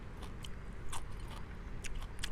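Repeated crisp bites and crunches of crunchy fiddlehead fern in a mixed spicy Thai-style salad, close to the mic, roughly six sharp crackly bites over steady chewing and background noise.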